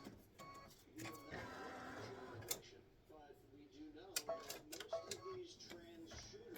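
Embroidery machine stitching a pumpkin face design, a steady mechanical whir with rapid ticking and clattering bursts, moderately loud.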